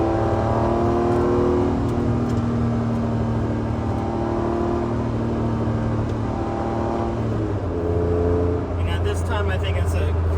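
A Honda NSX with a short shifter and stock shift knob drives steadily, a loud, close engine drone dipping and climbing as gears change, with a brief whirring rise near the end.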